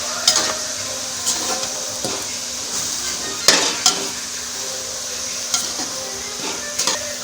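Chopped medium tomatoes go into a hot frying pan for a Pakistani-style fish masala, giving a steady soft sizzle with occasional clinks and scrapes of a spoon stirring against the pan.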